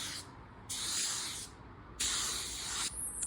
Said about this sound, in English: I like to spray the color when it's still wet